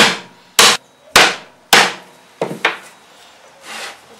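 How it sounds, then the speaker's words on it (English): A hammer gently taps the tops of screws into a plywood disc on a jig, giving about five sharp, close wooden knocks at uneven intervals, followed by a softer, duller tap. "with a hammer just gently tap the tops of the screws all the way right round so it bites into the plywood disc"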